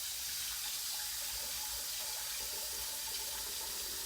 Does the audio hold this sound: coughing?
no